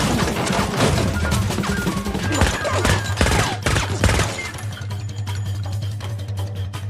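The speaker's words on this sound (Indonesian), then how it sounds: "King dan Otis juga tiba dan terlibat dalam baku tembak" Rapid bursts of gunfire in a movie shootout, dense overlapping shots and thuds crackling over a dramatic musical score with a low droning tone.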